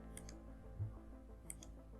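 A computer mouse clicks once while working in SPSS statistics software, a faint, brief tick heard alone in a quiet room.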